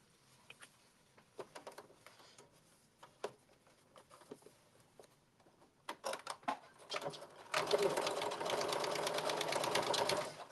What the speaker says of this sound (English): And now you're going to edge stitch this closed.